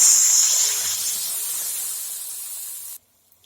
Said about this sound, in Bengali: মিক্সের বাটি দিয়ে জল দিয়ে দেবো